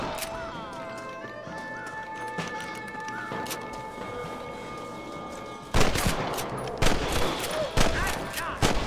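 Gunfire erupts in a Red Dead Redemption shootout: after a quiet stretch of outdoor ambience, sharp, loud shots crack in quick, irregular bursts close by.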